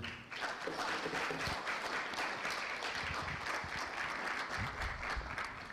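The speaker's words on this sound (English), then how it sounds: "Another round of applause for our speaker." Conference audience at a law society annual meeting giving the speaker another round of applause, steady full-room clapping that stays loud and unbroken throughout.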